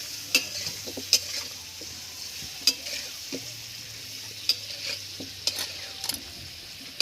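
Potato pieces frying in a pan with turmeric and salt, for a village-style duck curry; a steady soft sizzle with sharp scraping stirs of a spatula recurring every second or so, no talking.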